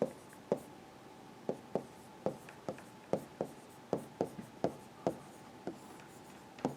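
Notes being written by hand during a pharmacy lecture on topical agents, heard as a steady run of about a dozen crisp, close taps and short strokes at an even pace, with no talking.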